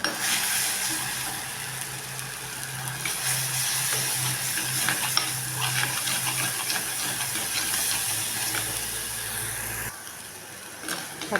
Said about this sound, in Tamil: பச்சை வசனம் போட வரைக்கும் கிளறிக்கணும்.